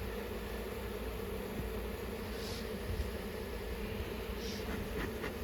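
Swarm of New Zealand bees buzzing around a beehive while they are installed in new IQ hives, a steady dense hum with no pauses and a few brief closer buzzes passing by.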